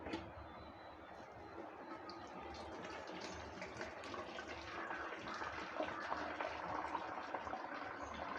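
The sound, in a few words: pouring liquid through a cloth-lined strainer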